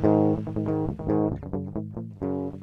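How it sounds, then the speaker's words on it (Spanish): An electric guitar recorded directly by cable into a computer with no amplifier or effects plays a quick run of clean, dry plucked notes and chords, close and alone. "Y la guitarra tal cual grabada suena así."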